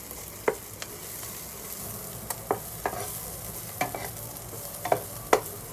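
Garlic, then ginger, sautéing in a pan for chopsuey, a steady soft sizzle with scattered clicks of a utensil stirring against the pan, no voices.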